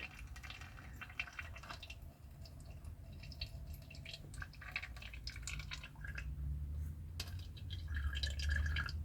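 Brake fluid drips and trickles out of a BMW E12 528A during a brake fluid change and bleed, a faint, close, irregular patter of liquid falling into a container.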